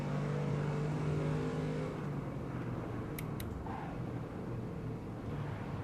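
Vintage 1970s race car in Assetto Corsa at Brands Hatch Indy, engine droning steadily with a low harmonic hum, slightly louder at first and then holding a constant mid-level roar, with a couple of brief sharp ticks partway through.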